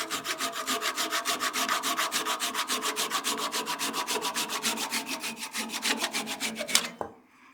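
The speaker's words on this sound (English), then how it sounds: "These little Japanese handsaws make quick work of that." A small Japanese handsaw cutting through a piece of turned wood on a lathe, with a fast, even rhythm of close rasping strokes for about seven seconds before the cut finishes with a light clunk.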